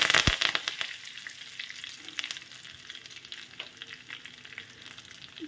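Dried red chili and curry leaves fry in hot oil with garlic for an Andhra-style pappucharu tempering, crackling and popping close up, loudest at first and then settling into a quieter, uneven sizzle.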